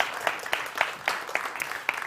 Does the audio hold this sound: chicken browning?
no